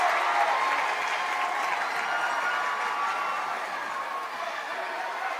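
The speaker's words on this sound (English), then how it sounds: "There'll be a huge roar from the Mustang crowd if the Mustangs can tie it up here." A home basketball crowd of Mustang fans at a high school game roars and applauds, sustained loud clapping and cheering that fills the gym and slowly tapers.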